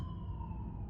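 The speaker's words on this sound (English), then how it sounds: "An ambulance is going by." An ambulance siren passing sounds in a steady, drawn-out tone over a low engine rumble, briefly heard from inside a parked car.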